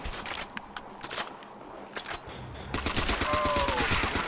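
Peacekeeper gunfire in a custom Call of Duty: World at War zombies map, with sharp shots scattered early and then a dense, loud stretch of rapid fire with ringing tones, mixed with game noise.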